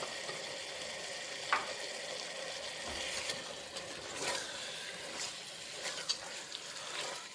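Marinated chicken with turmeric frying in a pan, a constant close hiss of sizzling oil with occasional clinks and scrapes from stirring.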